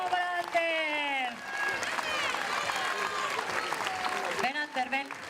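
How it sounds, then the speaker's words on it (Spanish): Crowd applause and cheering at a town festival in Doneztebe for Ander, a daredevil bicycle stunt rider, with an announcer's amplified voice ringing over the clapping. "¡Un aplauso para Ander!"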